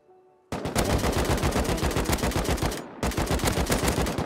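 Rapid automatic gunfire from the video game Rust rattles out in two long bursts separated by a brief gap, loud and close, with no voices.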